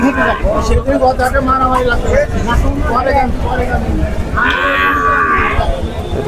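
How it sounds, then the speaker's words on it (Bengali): Cows at a cattle market in Tebaria, Natore, low in short calls amid a constant babble of people talking nearby, with one louder, drawn-out moo rising near the end. "আর এদিকে গাভী গরু আছে গাভী গরু পাওয়া যায় এদিকে"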